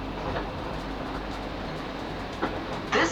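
A South Western Railway Class 458 electric train runs along the rails near Egham, a steady low rumble heard from on board with a few faint clicks and a short rise at the end.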